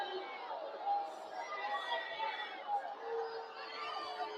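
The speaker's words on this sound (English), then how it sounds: "You can hear the crowd. They're not happy about it." A college football stadium crowd at a Utah State vs Hawaii game murmurs and calls out in a broad, restless roar, heard at a distance and holding steady across a few seconds.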